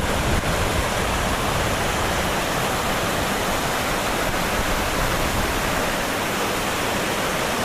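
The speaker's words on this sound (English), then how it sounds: "This is the Tuolumne River as it's flowing by Return Creek." A steady, full roar of the Tuolumne River rushing by Return Creek, broad and unbroken throughout, close and loud with no voices.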